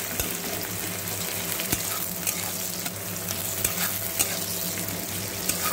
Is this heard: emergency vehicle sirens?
no